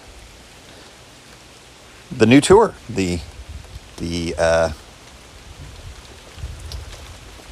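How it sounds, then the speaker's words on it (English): Steady rain falls on a rainy morning as a soft, continuous hiss that runs throughout, with someone talking over it for a few seconds. "it is a rainy start today"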